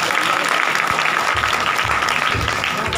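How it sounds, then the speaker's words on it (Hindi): Congregation at a Christian church service applauding, a steady dense clapping from many people filling the hall, loud and unbroken throughout. "भाई तालियां बजाने के लिए 400 बजा दीजिए"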